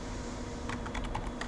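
Computer keyboard keys tapped in a quick, uneven burst during SketchUp modelling work, close and clear over a steady low hum, with no talking.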